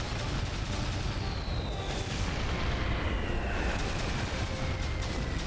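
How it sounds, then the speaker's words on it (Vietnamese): Artillery fire rumbles through a war drama as a division's guns fire a salvo, heard as a dense, continuous low roar and booming wash with no clear separate blasts, loud and steady throughout. "Lệnh cho pháo binh, sư đoàn 2 bắn một đợt. Chúng ta bắn hai đợt."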